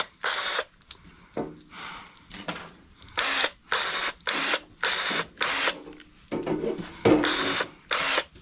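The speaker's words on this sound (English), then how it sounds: "I'll have to cut that off with a little side grinder" A small side grinder cuts off scrap metal outdoors in a backyard, with repeated short loud bursts of whining and grinding separated by brief pauses, close up and without talk.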